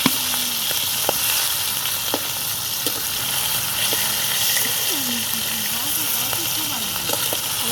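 Pangas fish sizzles steadily in hot oil in a pan, a continuous close hiss and crackle with scattered pops and faint voices beneath.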